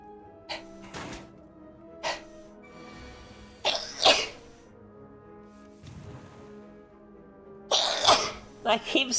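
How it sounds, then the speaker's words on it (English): A person sneezes several times in a row, short bursty sneezes with throat sounds spaced a few seconds apart, close and distinct against a quiet background. "I keep sneezing."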